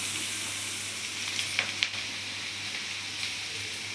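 Street-style egg noodles frying in a pan, with steady loud sizzling throughout and a few faint clinks of stirring.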